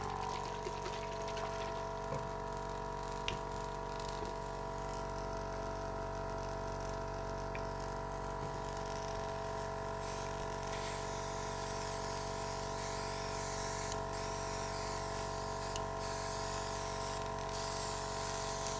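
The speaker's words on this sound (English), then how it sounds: "Airbrush on." Airbrush hissing steadily as colour is sprayed over a sculpted Valentine's Day beehive cake, a continuous close, loud, even spray with a compressor hum beneath and no pauses.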